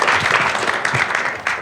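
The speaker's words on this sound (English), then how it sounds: "Give them a round of applause." Audience at a Thought Bubble comics festival panel breaks into applause, a brief burst of mixed clapping with a few louder individual claps, fairly close and busy throughout.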